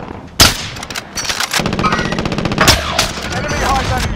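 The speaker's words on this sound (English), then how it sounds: "Friendly sentry gun online." Automatic sentry gun in Call of Duty: Modern Warfare opening up in rapid bursts of close, loud gunfire with sharp impacts and clanks, a brief gap midway before firing resumes.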